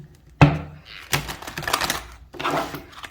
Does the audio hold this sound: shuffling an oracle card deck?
yes